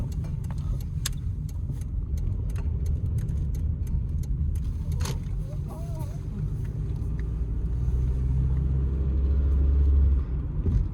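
A car with a Toyota engine drives along, giving a steady low engine and road rumble close by that swells slightly near the end, with faint clicks and rattles from the cabin.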